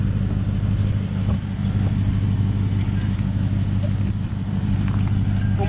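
A Lexus GX engine roars loud and close in a steady, continuous drone as the SUV sits bogged in beach sand at South Padre Island with lowered tire pressure and its wheels finding no traction.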